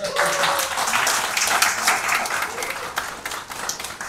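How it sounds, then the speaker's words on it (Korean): Sustained applause from an audience at a labor policy forum in Daegu, a dense, even clatter of many hands that holds at moderate level throughout. "박수 한번 주십시오."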